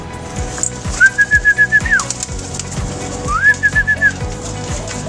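Pet pigeons at feeding time give soft repeated coos under two clear, rising whistled notes. The sounds are close and distinct over a low, busy background.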